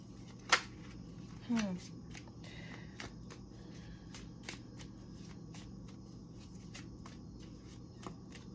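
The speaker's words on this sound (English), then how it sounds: "for the rest of the cards, I do shuffle on camera" Tarot cards being shuffled in a few quick riffling bursts, with sharp snaps and soft papery rustles between them, close by and fairly quiet.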